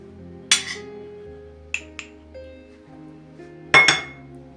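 A baking dish is handled in a home kitchen while preparing a rustic meat dish, giving a few sharp, bright clinks and knocks, with one louder clatter near the end, close by over a faint background hum.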